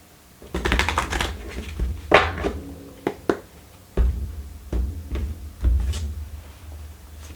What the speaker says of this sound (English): Oh, just going to shuffle.